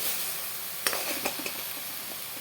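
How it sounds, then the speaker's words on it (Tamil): Ground ginger, garlic, onion and chilli paste sautés in a pan for lemon rice, a steady soft sizzle under a few light scraping stirs, close and moderately quiet with no talking. "நான் நல்லா நைஸாக அரைச்சிட்டு அதையும் இதில் போட்டுட்டு நல்லா வதக்கி விட்டுக்கிறேன்"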